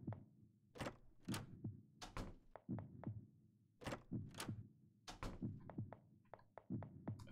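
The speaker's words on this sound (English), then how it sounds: "it's only playing the heartbeat sound effect now" Heartbeat sound effect in the RPG Maker horror game Aria's Story, paired low thumps repeating in a slow, steady rhythm, fairly quiet, with no music or voices.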